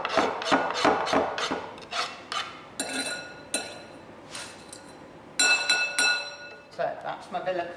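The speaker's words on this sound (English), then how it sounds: "So I've scraped out all my seeds. I'm going to scrape those into my bowl." Vanilla pod seeds are scraped into a bowl in a series of short, rhythmic scraping and tapping strokes with light clinks of utensil on the bowl, close and fairly quiet, with a person talking between them.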